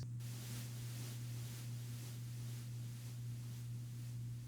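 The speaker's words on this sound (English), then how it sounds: "a huge amount of that is going to come from strategically used FX, white noise, crash, white noise like this" White noise effect from a music mix, a quiet, even hiss that sustains with soft pulsing swells over a low steady hum.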